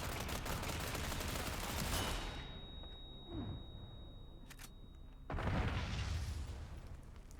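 Bursts of Tommy gun fire in the survival horror game Resident Evil 4 Remake, with a loud sustained volley, a lull with scattered shots, then another loud burst of rapid fire.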